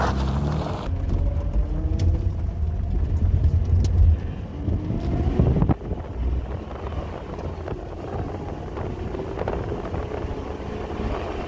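A BMW E36 sedan engine drones steadily while the car drives, with a low rumble and wind and road noise heard from inside. It grows a little louder in the first few seconds and there is no talk.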